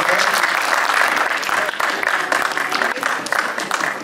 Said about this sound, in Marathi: सत्यजितसाठी जोरदार टाळ्या.